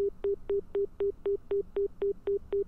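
Telephone keypad dialing in the Nekopara video game: about ten evenly spaced electronic tone beeps in quick succession, clean and alone with no voices.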